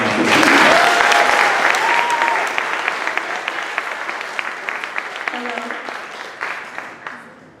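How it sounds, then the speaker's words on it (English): Warm audience applause greets a storyteller taking the stage at a live storytelling event, loud at first with a few whoops, then gradually thinning toward scattered claps. "Please give Danielle a warm round of applause."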